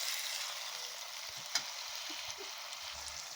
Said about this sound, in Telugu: ఈ టమాటా పేస్ట్ అంతా పచ్చివాసన పోయి ఇలాగా నూనె తేలే వరకు ఇలాగా ఫ్రై చేసుకోవాలండి.